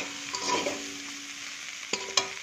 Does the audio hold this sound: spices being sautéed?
yes